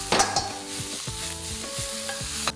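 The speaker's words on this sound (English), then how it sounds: "I'll add in the crushed spice mix and allow this to cook till the raw smell of the ginger and garlic goes away." Crushed spice mix with ginger and garlic frying in a pan for Mumbai-style vada pav, a steady close sizzle broken by several scraping stir strokes, with no talking.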